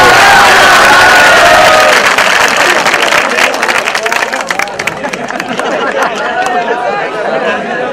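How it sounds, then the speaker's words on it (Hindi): At an Urdu mushaira in Akola, a crowd breaks into loud applause, dense clapping mixed with cheers and chatter, sustained for several seconds and tapering slightly toward the end. "एक जोरदार ताली बजा के हामिद को बुला दीजिए।"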